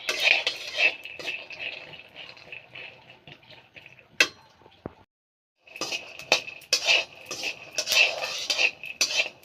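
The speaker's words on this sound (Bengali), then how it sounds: "বাদামটা ভালোভাবে ভাজতে হবে" Peanuts dry-roast in a pan and are stirred repeatedly, giving close, busy rattling and metallic scraping in irregular bursts, with a brief quiet pause midway before the clatter resumes.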